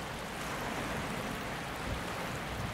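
Steady rain falls in the survival game Project Castaway, a dense, even wash of noise with no breaks, soft and constant throughout.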